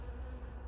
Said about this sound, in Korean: 실제로는 퍽 속에 꿀벌들이요 웽웽웽웽 장난이 아닙니다.